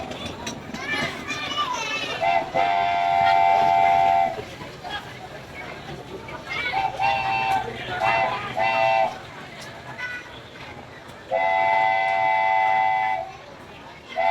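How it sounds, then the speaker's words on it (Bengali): A small zoo ride train toots its horn in long repeated blasts while children shout and people talk nearby, with a steady rumbling background. "এখন চিড়িয়াখানার ভিতরে ট্রেনে চড়ছে সাইফামণি আর ফাহিম"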